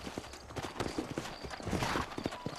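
Horse hooves clip-clop steadily on the ground in the Red Dead Redemption video game on Xbox 360, a loud, close rhythmic trotting that fills the short stretch with no talk over it.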